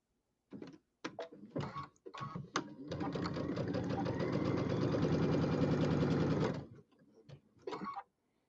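Sewing machine stitching quilt blocks together, a steady rapid mechanical whir lasting several seconds, framed by short bursts of start-and-stop stitching before and after, close and clear with no talk.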